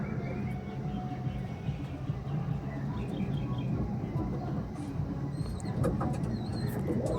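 Pure Dasu breed pigeons cooing in their loft, low throaty coos rolling on almost without pause at close range, with scattered higher chirps and rustling toward the end.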